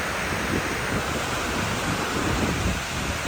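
Rain and cold wind at a railway station, a steady broad hiss of falling rain with wind gusting against the microphone, no voices.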